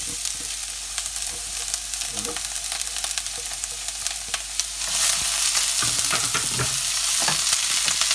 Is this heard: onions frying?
yes